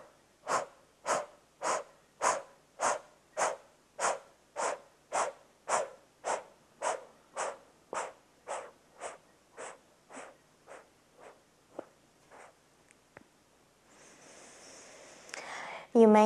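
Someone doing a breathing exercise takes about twenty rapid, rhythmic breaths close to the mic, slowing and fading toward the end, then a rustling burst follows.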